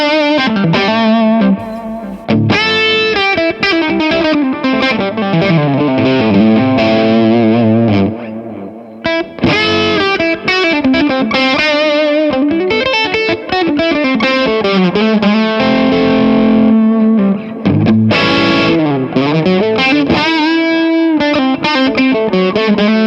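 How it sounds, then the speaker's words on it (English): Electric guitar played through a Mesa Boogie Fillmore 50 amp with a Tube Screamer pedal and its gain turned up, giving a loud, sustained distorted tone with ringing chords and riffs throughout, no talking. "If I turn the gain up on the tube screamer, have a listen."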